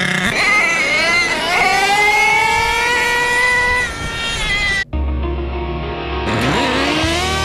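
Associated MGT 4.6 nitro RC truck engine screaming at high revs, its pitch rising and wavering, then cutting out abruptly and dropping to a lower, rougher idle before revving up again.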